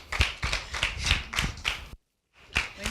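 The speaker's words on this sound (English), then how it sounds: "Ladies and gentlemen, with a round of applause" Rhythmic, fairly close hand claps, about eight evenly spaced, welcome a speaker to a talk on learning disabilities, then stop briefly before another clap resumes.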